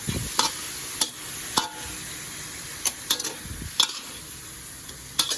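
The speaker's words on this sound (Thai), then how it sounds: "แล้วก็คนให้มันเข้ากันครับ เพื่อที่จะให้น้ำของน้ำปลาราดพริกเนี่ย ซึมเข้าไปในตัวปลาที่เราทอดไว้นะครับ" Fried fish being stirred with chili sauce in a pan, a soft scraping and stirring texture broken by sharp utensil clicks against the pan, with a faint sizzle underneath and no voices.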